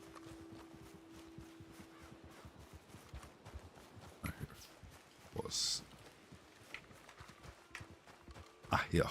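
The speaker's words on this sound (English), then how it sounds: "I hear a horse somewhere." Rapid hooves of a horse in the video game Gilded RP clop in a steady galloping rhythm at a moderate distance, with a few louder thumps and clatters layered on top.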